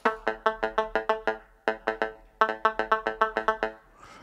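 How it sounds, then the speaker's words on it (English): A plucky synth tone like a muted guitar plays the Knight Rider theme on a DRC synthesizer, with short, sharply decaying notes in quick rhythmic runs broken by brief pauses, clear and alone. "it's kind of a plucky sound, sounds a little bit like a muted guitar"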